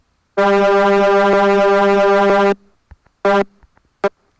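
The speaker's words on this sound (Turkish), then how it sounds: "Şöyle kornaya basayım. Korna sesini dinleteyim." A loud, harmonic car horn blares for about two seconds, followed by a short second honk and a final quick beep, with small clicks in between.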